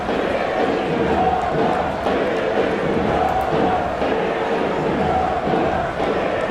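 Basketball arena crowd at the Thomas and Mack Center in the SimWorld Sports video game, a loud steady roar and murmur of many voices with occasional shouts, filling the space continuously.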